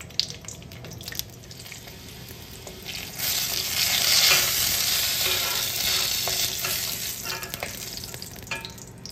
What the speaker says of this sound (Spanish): Vamos a torear estos chilitos de la huerta.